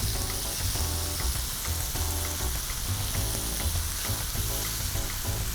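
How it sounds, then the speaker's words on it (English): A beef tenderloin fillet sears in a hot pan alongside onions, giving a steady, dense sizzle and crackle that stays loud and even throughout, with no talking. "There's a nice sear on the outside of that fillet."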